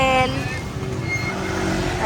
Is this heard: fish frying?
no